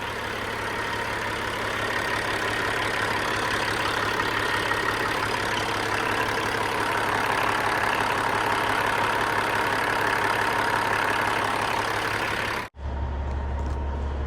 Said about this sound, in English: Got the new air compressor on and I'm just checking for leaks